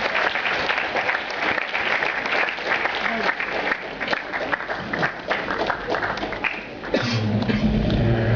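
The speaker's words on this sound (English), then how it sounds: "Please give a big round of applause to Ms. Alpana Chaudhary." A crowd applauds continuously, loud and dense, with a brief swell near the end.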